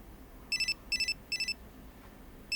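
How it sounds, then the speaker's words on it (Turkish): A telephone rings in quick trilling bursts, three short rings in a row and a fourth starting, fairly clear over a quiet background. "Telefon çalıyor, duymuyor musun?"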